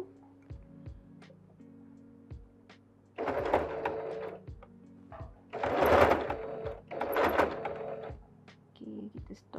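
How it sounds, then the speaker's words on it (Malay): Sewing machine stitching a batik face mask with lining, quiet at first, then three loud bursts of running stitches separated by brief pauses. "Teruskan jahitan."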